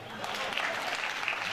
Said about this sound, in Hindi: अरे इसमें तो ताली बजाओ